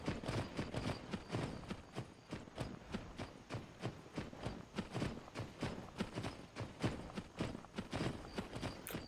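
A horse in the video game Skyrim VR walks with quiet, evenly spaced clip-clopping hoofbeats, about two steps per second in a steady rhythm throughout.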